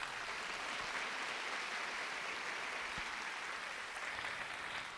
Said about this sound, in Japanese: 改めて各社様にも皆様大きな拍手をお願いいたします。